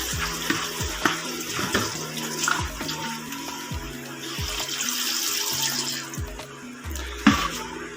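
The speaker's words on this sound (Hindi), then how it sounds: "और साथ इसके पानी डालेंगे।" Water poured into a pressure cooker holding beef and boneless chicken for Punjabi haleem, a splashing, gurgling pour running steadily for several seconds with clinks of the pot close by.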